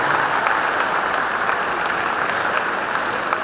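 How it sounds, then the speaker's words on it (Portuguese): A church congregation at a national convention jubilee applauds, a steady, dense and fairly loud wash of clapping that holds evenly throughout without breaks. "Pode aplaudir, irmãos."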